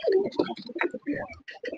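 A fancy pigeon coos near its chick in a series of soft, close, throaty calls broken by short pauses, with light chirpy bird notes between them.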